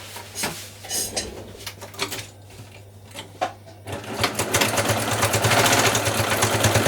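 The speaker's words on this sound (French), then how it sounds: "on vient coudre à 1 cm ici, du bord au point droit" A sewing machine stitches a straight seam on a lined, waterproof beach bag, first in short stop-start bursts, then running in a long continuous, close, rapid whir toward the end.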